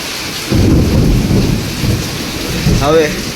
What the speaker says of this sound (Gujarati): લગભગ હમણાં જ એક વીજળી પડી અહીંયા આ બાજુ ક્યાં